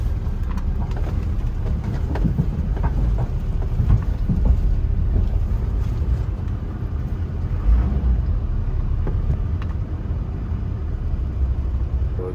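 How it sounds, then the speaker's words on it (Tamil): Low rumbling engine drone of a small landing craft boat carrying people and vehicles, steady and continuous throughout with no talking. "லேண்டிங் கிராஃப்ட்டுங்கிற இந்த போட்டில் தான் போவாங்க."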